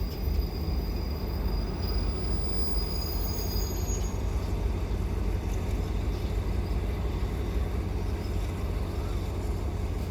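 A train on Thailand's eastern line, led by an original Alstom diesel locomotive with a Pielstick engine, rumbles steadily and loudly for the whole stretch with a dense low roar and faint high wheel squeal.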